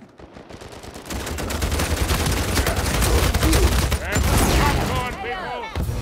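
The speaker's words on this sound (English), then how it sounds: "I shot him with a copperhead" Rapid bursts of copperhead rifle fire in an Uncharted 4 multiplayer match, loud and continuous with a dense layer of game effects and music, ending in sharper chirping tones.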